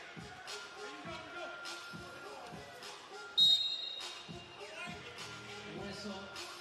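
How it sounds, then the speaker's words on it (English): A referee's whistle blows once, short and sharp, at a FIBA 3x3 World Cup basketball game involving the USA men's team. It sounds amid repeated ball bounces and steady arena noise, with commentary running underneath. "Parrott not happy that the whistle came late."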